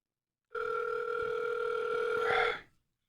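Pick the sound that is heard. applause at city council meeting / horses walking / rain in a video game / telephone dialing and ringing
telephone dialing and ringing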